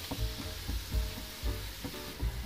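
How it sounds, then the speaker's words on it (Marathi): Tomato puree sizzling as it hits hot oil in a pan for palak paneer, a steady close crackle with soft rhythmic stirring thumps every half second or so, no voices. "आता आपण याच्यामध्ये टोमॅटोची प्युरी टाकणार आहोत"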